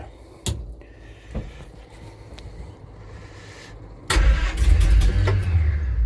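A Simca Marmon 4x4 engine is cranked on the choke and hand throttle. Muffled turning-over is followed by a sudden loud, rough roar partway through as the engine briefly catches.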